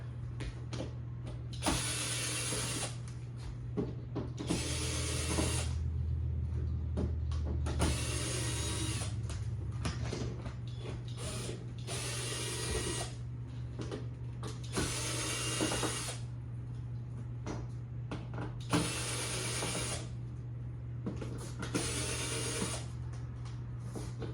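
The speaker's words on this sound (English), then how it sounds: "Get these screws out." A small electric screwdriver removing screws from the back panel of an LG 65-inch TV, repeating bursts of whirring motor and ratcheting clicks separated by short pauses, close and fairly loud with no speech.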